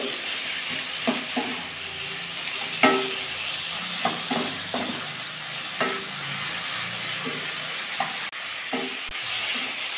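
Bottle gourd and egg curry sautéing in a pan, with scattered scrapes and clinks of a spatula stirring over a steady low sizzle, the strokes coming every second or so.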